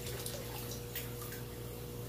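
Water pouring into a marine reef aquarium, a steady close splashing and trickling that runs unbroken throughout with no talk.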